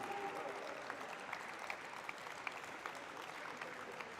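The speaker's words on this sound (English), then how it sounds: "The applause should keep going, keep going." Audience applause at a stock exchange listing ceremony for Billionbrains Garage Ventures Limited goes on steadily in a hall, a dense patter of many clapping hands heard from some distance, with no one speaking over it.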